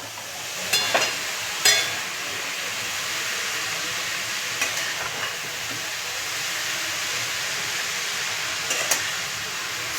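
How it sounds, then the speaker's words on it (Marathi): Grated carrots cook in ghee in a kadai for carrot halwa, a low steady sizzling hiss broken by a few brief scraping stirs, with no talking. "सर्व गाजर आता किसलेलं आहे ते कढईमध्ये सर्व टाकून घेऊया"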